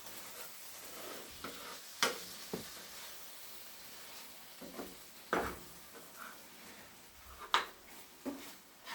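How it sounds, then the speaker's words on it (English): Food is stirred in a pan, heard as quiet scraping and soft sizzling close by, broken by several sharper clinks of the utensil against the pan at irregular intervals. "now what we want to do is stir it in."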